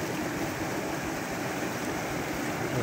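A mountain stream near Da Lat rushes steadily with a constant, dense watery hiss and gurgle, close and unbroken, without any voices.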